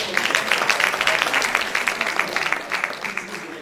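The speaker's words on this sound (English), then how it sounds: "Another round of applause for Barrister Lamikanra and his representative" Applause for a barrister and his representative during Professor Adebayo Lamikanra's valedictory lecture; a hall audience claps in a brisk, even patter for a few seconds, moderately loud, with a voice over it.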